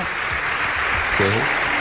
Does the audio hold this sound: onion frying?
no